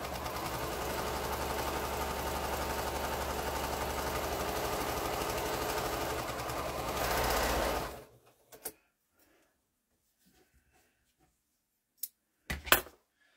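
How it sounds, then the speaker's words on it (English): A sewing machine stitches a quilt seam with right sides together in a steady, close, continuous hum for about eight seconds. It then stops, followed by a few scattered clicks and handling sounds. "I'm just going to flip that over and sew this seam right sides together"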